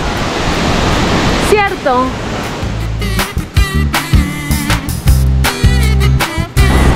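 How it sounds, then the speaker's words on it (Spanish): A waterfall in Cañón del Combeima near Ibagué, Colombia, roars loudly and steadily, buffeted by strong wind; a voice soon starts talking over the constant rush, which continues beneath her speech. "No saben el ventarrón que está haciendo esa cascada."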